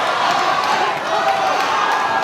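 A fight crowd at an MTL 14 combat event cheers loudly in a steady, dense roar that fills the hall and stays at a constant level throughout.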